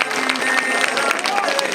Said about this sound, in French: Applaudissements pour Carole et la maison Grams.